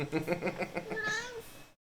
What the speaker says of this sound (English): Kitty. That's my kitty.